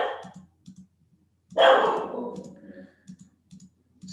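A pet dog gives one loud, sharp bark indoors, close by, amid soft clicking sounds before and after.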